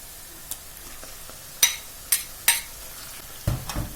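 Chopped onions frying in a pan with butter being added, a soft sizzle under a few sharp clacks and scrapes of a utensil stirring against the pan, plus a clatter near the end.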